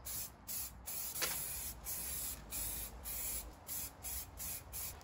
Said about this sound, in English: I'm just about ready to spray the final coat of clear